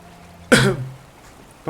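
One close, loud cough or throat clearing rings out briefly, then fades into near silence.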